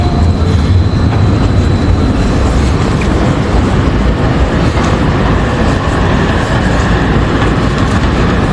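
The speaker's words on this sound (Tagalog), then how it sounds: "Oh, itong train." Train rumbling past in Vienna's First District, a steady loud low roar with faint rail rattle throughout and no talking.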